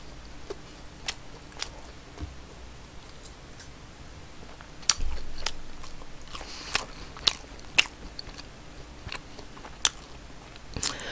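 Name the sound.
eating Burger King red king crab Whopper and crunch chicken burger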